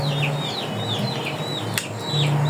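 Crowing and clucking from a yellow crossbreed rooster repeat through a noisy outdoor background at moderate distance, with a brief sharp knock partway through and no voices.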